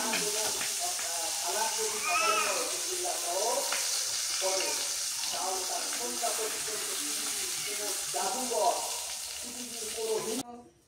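Mirka fish fry in a pan with a steady, dense sizzle and hiss that runs throughout, while a voice talks over it.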